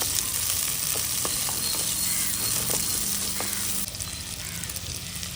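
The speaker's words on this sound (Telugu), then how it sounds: "ముందుగా తరిగి పెట్టుకున్న ఆనియన్స్ వేసుకోవాలి బాగుదోరగా వేయించుకోవాలి" Chopped onions sizzle in hot oil in a pan for an eggplant gongura curry, a steady close frying hiss with a slight change in tone near the end and no talking.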